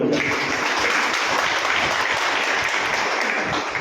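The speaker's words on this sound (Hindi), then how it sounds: "जोरदार तालियां आप जरूर बजाएं" A crowd of BJP party workers at a workshop claps loudly and continuously, a dense, even roar of applause with no pauses.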